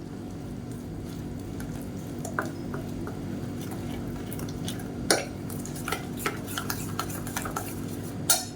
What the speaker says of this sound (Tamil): இது எல்லாத்தையும் கட்டி இல்லாமல் நல்லா கரைச்சிக்கலாம்.